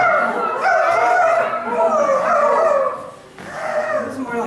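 People imitate coyotes with their voices during a poetry reading, producing wavering, sliding howls and yips that rise and fall in several overlapping bursts before a short dip and a final howl.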